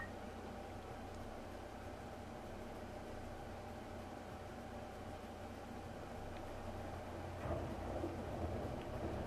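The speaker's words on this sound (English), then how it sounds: "And I'm pretty sure Riovanes is always raining." Steady rain in a video game, falling on the roof of Riovanes Castle: a constant broadband hiss that stays even and unbroken for the whole stretch, with a slight swell near the end and no voices.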